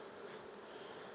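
Bees swarm around an open beehive during a mite check and treatment, giving a faint, even, continuous hum of many wings with no voices.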